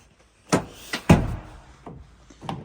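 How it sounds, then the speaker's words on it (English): A power-latching sliding door closing on a 2022 Volkswagen Transporter 204ps BiTDi DSG SWB 4Motion Kombi conversion: a few knocks, a heavy thud as it shuts, then softer mechanical clicks as the latch pulls it in. "Power latching doors on this, so as you shut it, it just pulls the door in if it's not quite shut."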